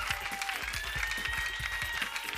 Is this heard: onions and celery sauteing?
no